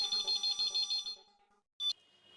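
A telephone at Gada Electronics rings in a Hindi comedy, a loud repeating electronic trill in quick pulses for about a second, then a short silence and one more brief burst.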